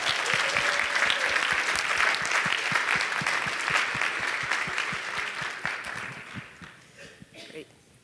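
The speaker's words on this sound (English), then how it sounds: "please give us a round of applause for our actors" An audience at an annual conference applauds its actors with sustained, crisp clapping that gradually thins and fades over the final seconds, with some voices near the end.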